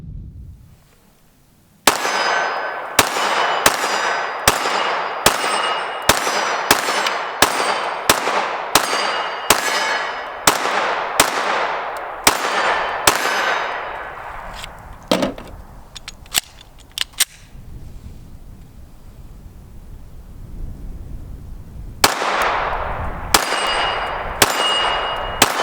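Rapid Glock 19 Gen 4 MOS pistol shots ring off a small 8-inch steel plate, each crack followed by a bright metallic clang, in a fast string of about a dozen, then scattered shots after a pause and another quick burst.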